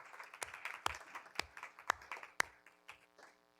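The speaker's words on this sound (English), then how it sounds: "that's a round of applause" A round of applause at a board of education meeting, several sharp, widely spaced claps standing out from a thin scatter of clapping, fairly quiet and brief.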